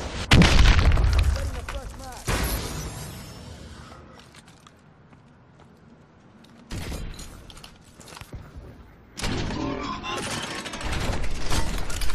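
Booming explosions from a bombing run in an urban multiplayer video game match: loud bursts at the start, then quieter rumbling, with further heavy blasts and crackling near the end.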